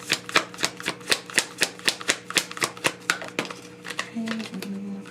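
Tarot cards are handled close by in a quick run of crisp, evenly spaced snaps and flicks that slows toward the end, where a voice briefly speaks.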